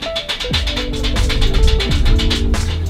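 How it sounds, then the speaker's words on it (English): Steady, rapid metallic clatter from a street cook chopping kotu roti on a hot griddle, with dense rhythmic blade strikes over a low background hum and a few tonal notes, continuous and fairly loud. "And you can hear him going in the background, chopping the kotu."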